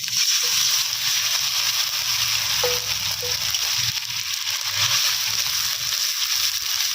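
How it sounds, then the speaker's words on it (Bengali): Tomato paste goes into onion paste frying in a pan, giving a constant loud sizzle with wet sloshing and a few soft clicks, close by and without any talk. "এর মধ্যে টমেটো বাটা দিয়ে দেবে।"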